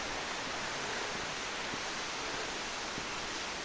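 Elephant Falls in Shillong pours down the first of its falls as a dense, constant roar of rushing water, broad and unvarying from start to finish with no voices or other sounds over it.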